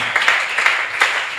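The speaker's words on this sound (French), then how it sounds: "Est-ce qu'on peut applaudir pour le Seigneur?" Congregation at an Easter church service applauding, with a dense, steady wash of many hands and a few sharper bursts of clapping, close and fairly loud, with no talk over it.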